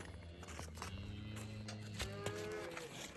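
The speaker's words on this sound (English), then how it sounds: "These are my donkeys." Donkeys braying on a rural property: a drawn-out, tonal call that rises and falls, fairly faint and distant over a low outdoor background hum.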